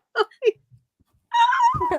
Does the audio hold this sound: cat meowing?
yes